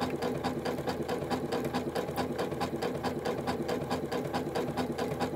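A Janome sewing machine stitches a one-step buttonhole with a steady, rapid mechanical chatter of needle strokes. The sound is close, even and continuous throughout, with no voices.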